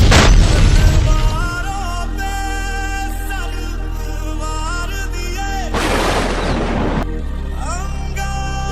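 A bomb explodes underfoot in a border-themed comedy skit: a loud, deep boom bursts out at the start and rumbles for about a second, then gives way to sustained dramatic music.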